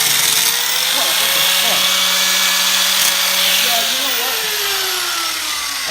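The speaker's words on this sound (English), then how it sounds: "Like right there, just grind it. You're gonna grind it off and weld it straight line right there" An angle grinder working on the frame of a 212cc mini bike, a loud steady high whine with a shifting pitch that runs throughout.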